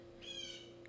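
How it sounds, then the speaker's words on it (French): Birds calling outdoors: a single high, brief chirping call, fairly faint and set over a steady low hum, with a second short chirp at the end. "Vous entendez les oiseaux?"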